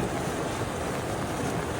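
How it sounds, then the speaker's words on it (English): Steady rushing of flowing water, a broad continuous roar with some wind-like noise, no voices. "Storm runoff flows there."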